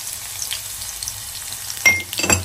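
Dried red chilies and curry leaves sizzle in hot oil for a Telangana wedding-style sambar tempering, a soft steady crackle that flares into sharper spattering bursts near the end.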